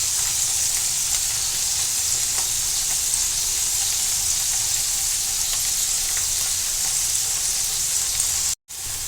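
Paneer pieces for palak paneer fry in a pan with a loud, continuous sizzle and hiss that cuts out for a moment near the end.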